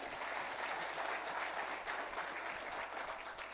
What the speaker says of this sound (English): A big round of applause for this gentleman.